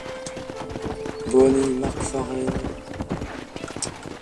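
Horse hooves clip-clop in the video game Red Dead Redemption, a rhythmic run of close hoof taps under someone speaking, with a brief neigh-like sound partway through.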